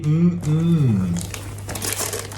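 Present wrapping paper is torn and crinkled open, the papery rustling following a high-pitched voice at the start and continuing busily to the end.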